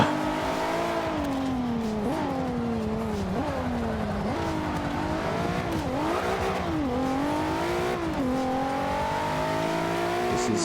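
An Infiniti Q50 race car engine in Forza Motorsport 5 roars continuously at Eau Rouge, Spa-Francorchamps, pitch climbing and dropping repeatedly as it shifts gears and accelerates, loud and close throughout.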